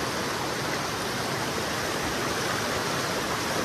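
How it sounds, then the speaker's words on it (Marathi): Strong stream in Kokan rushing over submerged stones, a dense, steady roar of flowing water, close and loud, unbroken for the whole stretch. "जास्तच प्रवाह आहे पाण्याचा"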